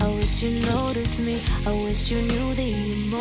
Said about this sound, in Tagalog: Siyempre, sasunod natin yung ating luya at saka siling green.